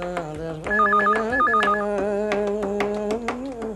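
A telephone rings in a Hindi family sitcom scene with a warbling electronic ring pattern repeated twice, clear and close, over a sustained musical tone.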